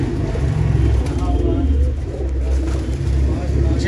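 Pigeons of Sultan bloodline cooing in a loft, low soft rolling coos repeating close by under someone talking, with faint traffic hum behind.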